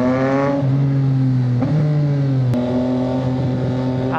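A Suzuki Hayabusa 1340cc motorcycle engine revs hard and accelerates close by, its loud, tonal roar climbing and dropping in pitch across several shifts.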